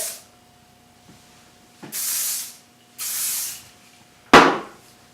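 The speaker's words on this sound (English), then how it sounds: "I'm going to take now the Kenra finishing spray and just finish off this look." Three bursts of hairspray from an aerosol can, each a steady hiss about a second long, close by, followed by a sharp click.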